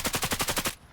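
Rapid burst of about eight evenly spaced automatic gunshots in a competitive esports video game match, loud and close, cutting off abruptly into near silence.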